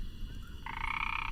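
A frog croaks in a steady, close, moderately loud call that thickens into a brighter, harsher croak partway through, with no talking.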